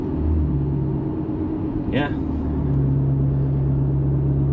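Inside the cabin of a 2018 Ram 1500 fitted with a Magnaflow Pro Series turn-down exhaust, a low, steady engine and exhaust rumble drones on at moderate volume, with a brief spoken word over it.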